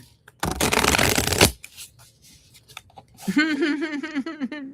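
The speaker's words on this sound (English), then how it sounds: "let me shuffle the cards, and then we'll pull two for Roger" Tarot cards shuffled by hand, a dense, crisp riffling burst lasting about a second, followed by a few light card taps and then a person speaking.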